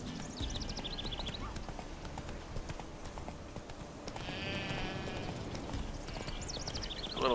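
Roach the horse trots along in The Witcher 3, hooves clip-clopping in a steady close rhythm, with a brief whinny-like call and faint ambient game sounds around it.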